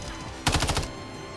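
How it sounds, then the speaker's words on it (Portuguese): A rapid burst of light machine gun fire from Call of Duty Modern Warfare III on the Rust map cracks out in about six quick shots, then the action falls back to quiet game ambience. "Meu tiro nem pegou no cara."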